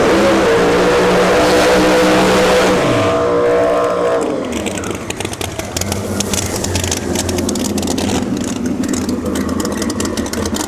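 Drag race cars, one of them a Pro Charged Camaro, idle with harmonic engine tones, then roar off the line together and keep up a loud, sustained, rumbling wail at close range.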